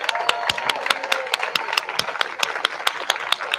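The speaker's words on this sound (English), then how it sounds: "Let's do one more round of applause for Diane." Audience at a peace demonstration clapping in a sparse, fairly steady patter of individual claps, moderately close and not very loud, with no talk over it.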